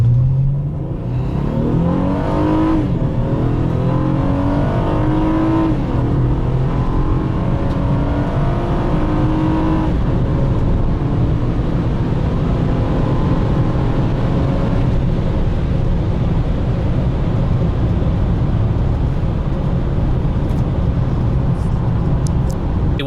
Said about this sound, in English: Sport mode, floor it